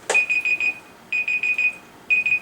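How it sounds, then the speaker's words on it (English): A timer alarm beeps loudly in three rapid bursts of four to five shrill tones each, with short pauses between the groups. "that's a different timer"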